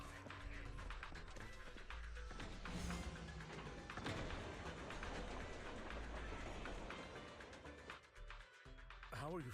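A train rolls along in the video game Zenless Zone Zero, a steady, loud rumble with rhythmic clatter and thumps that continues throughout and drops out briefly near the end.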